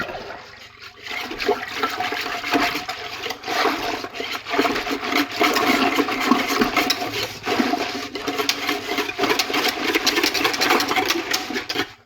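Malt extract being stirred into water for yeast starter wort, a steady, continuous swishing and churning of liquid lasting throughout, fairly close and moderately loud, with no voices.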